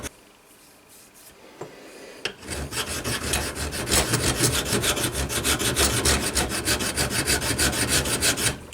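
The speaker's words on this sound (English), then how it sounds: "This is called draw filing." A hand file draw-filing a metal engine part, a steady run of rhythmic rasping strokes that starts after a quiet moment and continues close and loud without talk.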